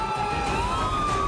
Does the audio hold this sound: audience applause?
no